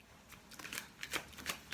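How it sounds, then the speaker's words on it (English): Greenwood oracle deck cards are shuffled in quick, soft riffling bursts, close and faint, repeating irregularly with no talking. "So I'm going to do a bit of a shuffle."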